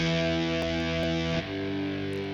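Distorted power-chord electric guitar patch played from a Novation SL MkII controller, a loud sustained buzzing chord with a few sharp pick attacks, shifting to a slightly different chord near the end.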